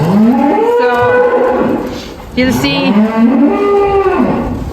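Cattle on a suckler farm moo loudly and repeatedly, long drawn-out calls close by with a brief break midway, as someone speaks a few words underneath.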